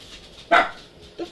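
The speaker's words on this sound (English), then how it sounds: "The fuck are you barking at" A pet dog indoors gives one sharp, loud bark, followed a beat later by a softer, shorter yip.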